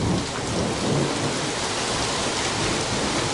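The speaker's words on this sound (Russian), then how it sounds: "Вот такой у нас сегодня ливень," A heavy summer downpour with thunder, recorded outdoors in a garden on 22 June, fills the air with dense, loud, steady hiss and low rumbling, with no talk.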